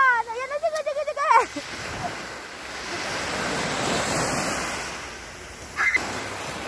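Sea waves crash and wash onto a shore in Korea, a broad roaring surge building and fading over several seconds, with children shouting and talking over the start and end and some wind buffeting the microphone.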